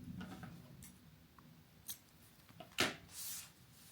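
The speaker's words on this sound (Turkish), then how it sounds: "Bir zincir çekip yeteri kadar ip bırakıp kesiyorum." Scissors snip through crochet yarn during work on a motif vest, giving a few faint, quiet cuts and soft rustles with no voice over them.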